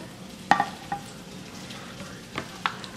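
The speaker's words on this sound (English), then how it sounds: "While my pork chops are browning" Pork chops browning in a pot give a low, steady sizzle, broken by a few sharp metallic clinks and scrapes of a utensil against the pot, with no voices.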